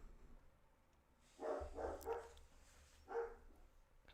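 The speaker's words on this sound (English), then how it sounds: "I'm gonna mute myself because the dog's going crazy." A dog barks faintly in the background, a quick cluster of barks followed by a single later bark, over quiet room noise.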